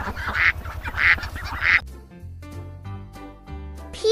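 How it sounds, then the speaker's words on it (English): A duck quacks in repeated loud, raspy bursts over a steady low rhythmic backing, after which a tuned musical jingle takes over and the calls stop. "Duck."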